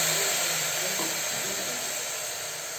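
Rice sizzling in a pan with bay leaves, cloves and cardamom while pulao is being cooked, a steady close frying hiss holding throughout and easing slightly toward the end.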